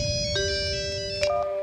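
A telephone rings with a clear electronic tone, sounding at close range for the whole clip with no one talking.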